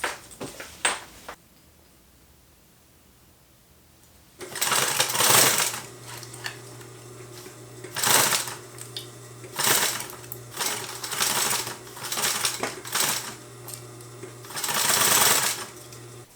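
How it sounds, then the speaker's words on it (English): A sewing machine runs in several bursts of steady mechanical whirring, separated by short pauses, with a quiet stretch near the start. "I'm going to sew a little less than 1/4 inch in."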